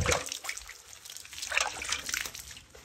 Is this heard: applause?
no